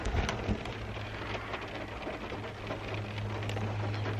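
Rain beats on a campervan during a road trip in Bridgnorth, Shropshire, a steady close patter with a low rumble beneath, and a few louder taps near the start.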